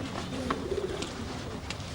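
Caged pigeons or doves coo softly indoors, a few low, rounded coos over a quiet background.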